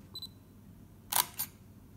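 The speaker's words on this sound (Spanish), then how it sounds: "El sonido del obturador me encanta." An Olympus PEN E-PL3 mirrorless camera fires its shutter, giving a crisp double click close up in a quiet room, preceded by a faint electronic focus beep.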